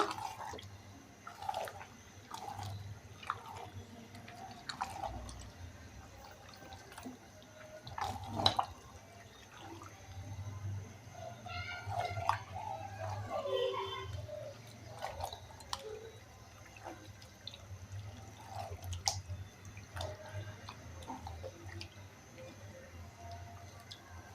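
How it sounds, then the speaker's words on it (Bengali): Spleen and liver, about two to two and a half kilograms, are stirred and mixed in a pot, producing soft, wet squelches and intermittent scraping knocks, faint and close, with no talking. "তো আমি এখন সব কিছু ভালো করে নেড়ে চেড়ে মিশিয়ে দিব"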